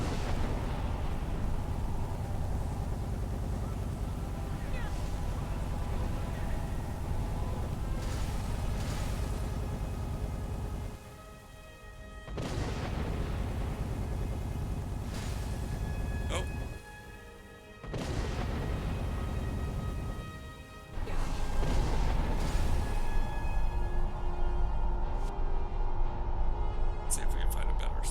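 Explosions from Skyrim destruction spells in a video game, heard as loud, dense, roaring bursts that fill long stretches, with brief drops and a sudden louder blast near the end.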